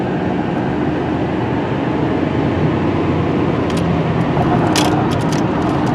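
A Ford 6.7 Powerstroke diesel truck driven hard, its engine and road noise forming a steady, loud, broadband roar from inside the cab with no break throughout.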